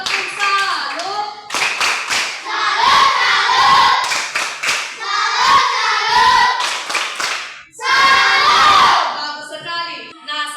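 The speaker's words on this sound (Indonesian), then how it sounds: "Beri tepuk salut untuk Mikael." Schoolchildren in a classroom clap a rhythmic salute in unison, patterned bursts of claps mixed with loud chanting and shouting voices, pausing briefly before another round.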